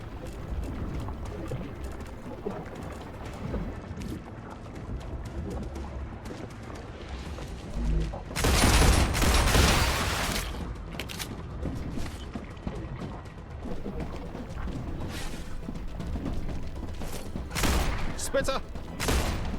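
Gunfire in the StarRupture video game comes as scattered sharp shots, with a loud cluster of rapid fire near the middle and more isolated bursts later, set over mechanical clanks and background game noise.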